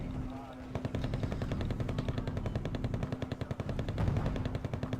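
Rapid autocannon fire in a competitive multiplayer war strategy game, a long steady stream of close, evenly spaced shots that briefly pauses and resumes.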